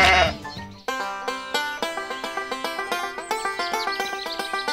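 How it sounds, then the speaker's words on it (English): Cartoon sheep bleats in a farm shearing scene: a short bleat, then a steady run of bright, pulsing tonal calls over about four seconds, clear and close with no talk. "hold the sheep tight"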